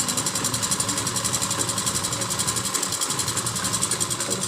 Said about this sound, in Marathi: आता त्याला आपण शिलाई मारून घेणार आहोत